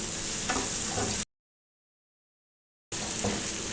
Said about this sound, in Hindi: अब टमाटरों के साथ इसकी भुनाई होगी।